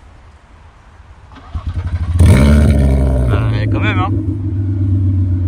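A car engine cranks with rapid pulses and fires up into a loud, booming rev. The exhaust is a 60 mm straight pipe with the valve open, no middle or rear silencer, only a catalytic converter. The engine then holds a rumbling idle while a voice speaks briefly.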